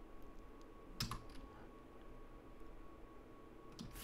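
Computer keyboard keys clicking as code is typed, a few quiet, close keystrokes with one brief louder burst of taps, over a low steady room hum and no talk.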